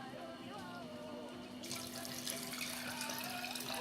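Water poured into a cooking pot of maffé, with tomato diluted in a bowl: a continuous close splashing stream that brightens and grows fuller partway through, with no talking.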